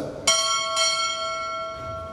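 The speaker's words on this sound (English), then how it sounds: "Time warning. Strike. Two bells." Two ringing strikes of a ship's bell at a U.S. Navy chief petty officer pinning ceremony, the second following half a second after the first, each sustaining a bright, lingering tone in a quiet hall.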